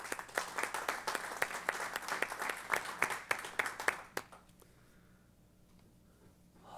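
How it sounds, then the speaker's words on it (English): Meeting audience at an Oklahoma Aeronautics Commission session breaks into brief applause, a modest burst of claps lasting about four seconds before fading to quiet room tone. "let's give Sandridge a little round of applause for that."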